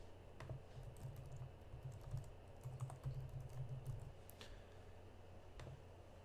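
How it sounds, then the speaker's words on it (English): Typing on a computer keyboard, soft steady key clicks with occasional louder taps over a low room hum, fairly quiet and close, no talking. "So we're going to type that in."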